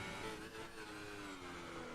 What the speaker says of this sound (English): Oh, that engine doesn't sound